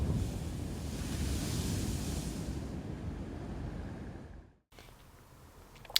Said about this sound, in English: Hopefully these waves won't keep me up all night